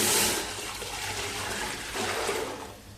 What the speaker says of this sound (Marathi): अर्ध्या किलो साबुदाण्याकरता तीन टोप आपण पाणी टोपामध्ये घालूया